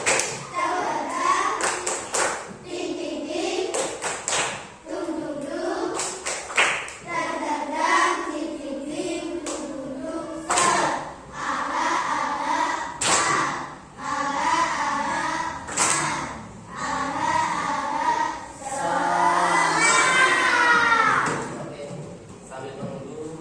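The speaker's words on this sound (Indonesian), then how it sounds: "Baik, tepuk semangat." Indonesian classroom group doing rhythmic 'tepuk semangat' spirit clapping, bursts of patterned claps mixed with chanting voices and talk, growing louder and busier near the end.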